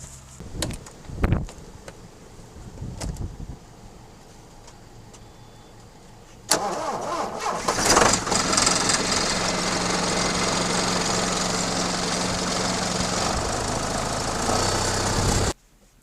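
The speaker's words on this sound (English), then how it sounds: "those 6410s, they sure did struggle starting in the cold" A 6410 tractor engine cranking in cold weather: sporadic clunks and a long quiet stretch, then the engine catches and runs at a loud, steady roar for several seconds before cutting off abruptly.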